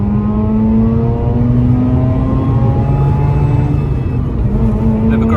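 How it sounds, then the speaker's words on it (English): A warm 2009 Mazda RX-8 R3 rotary engine revs hard, its smooth buzzing note climbing steadily in pitch toward the rev limiter's warning beep, loud and close with the drone sustained throughout. "So the engine is fully warm, so we'll just allow it to rev right up to the beep."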